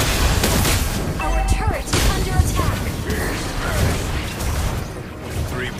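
Explosive booms and clattering mechanical effects from a turret being destroyed in the video game Epic Legends, loud and dense, layered with other busy game sounds.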